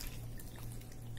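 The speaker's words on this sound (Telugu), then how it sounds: "వాటర్ వేస్తున్నాను" Water poured into a thin wheat dosa batter makes a faint, steady trickle over a low hum, with no voices.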